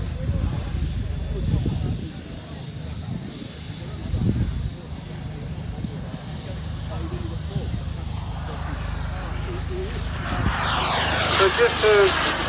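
A large-model radio-controlled F-16 jet with a miniature turbine flies at an airshow, its engine a steady distant roar and whine that swells louder near the end over outdoor crowd ambience.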